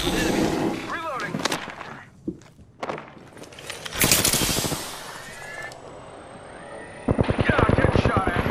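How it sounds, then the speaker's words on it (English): Gunfire aimed at the player in a shooter video game: scattered bursts of shots and impacts come and go, with a dense rattling volley near the end, mixed with game sounds and quiet stretches in between. "I'm getting shot at"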